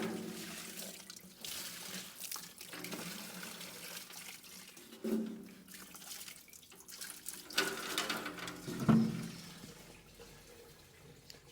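Dirty liquid pouring and splashing out of a Case 430 tractor fuel system part as it is flipped over, a continuous close watery gush with uneven surges and a few louder splashes, no talking.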